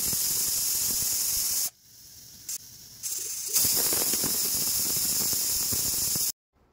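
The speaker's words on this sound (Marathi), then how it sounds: "तर आता कुकरच्या शिट्ट्या होत आहे आपल्या" A pressure cooker on the stove, cooking a spicy village-style mutton curry, vents steam in a loud continuous hiss that drops out briefly, returns, and then cuts off abruptly near the end.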